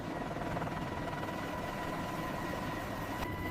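Helicopters flying over the sea, a steady broadband rotor and engine drone with a constant whine, continuous and fairly distant.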